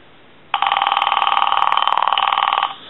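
An AT&T 530 Trimline telephone rings its electronic bell in one loud, steady warbling burst of about two seconds, heard alone at close range.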